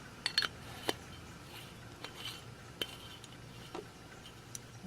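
A 100-watt incandescent light bulb is unscrewed from its fixture, giving a handful of faint, scattered glassy clicks and taps over quiet room noise.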